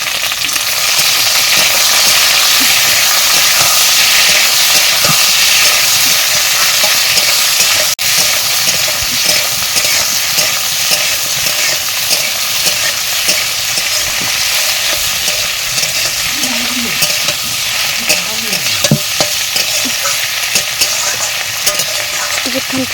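Shrimp goes into a pan of browned onions in a village kitchen and fries with a loud, continuous sizzle and hiss. Occasional scrapes of stirring sound close by, with no talking.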